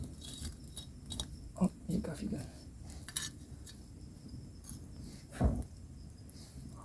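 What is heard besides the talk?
broken clay pot placed on a campfire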